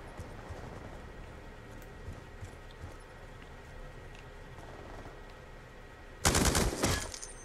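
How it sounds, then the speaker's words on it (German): A sudden loud burst of machine gun fire near the end, heard in Black Ops 2 on the Express map, cutting through a low, continuous wash of background battle noise with no talk. "Oh, ein MG."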